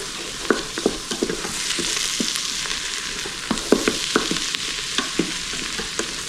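Herbs such as basil fry with onions in olive oil, giving a continuous close sizzle broken by regular spatula taps and stirring scrapes at a fairly even rhythm, with no talking.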